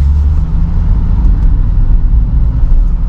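2020 Chevrolet Corvette C8 Z51 on the street, its engine a steady low rumble with road noise from inside the car, loud and continuous throughout.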